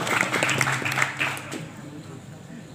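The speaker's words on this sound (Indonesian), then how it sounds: "boleh tepuk tangan lagi buat Haikal ya" Audience at a Maulid Nabi religious gathering clapping for Haikal, a moderate burst of applause that tapers off and fades to near quiet by the end.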